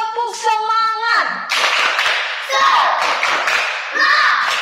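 A classroom group shouts a chant, then breaks into loud rhythmic spirit clapping in short bursts, many hands striking together in patterned beats with children's voices calling out between.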